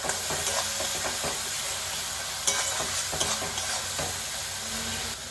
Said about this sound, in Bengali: এবারে খুব ভালো করে মশলাটা আমি কষিয়ে নেব